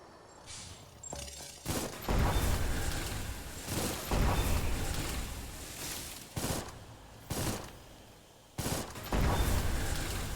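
Video game gunfire comes in several loud, dense bursts and volleys, separated by short lulls, with no talking over the shots.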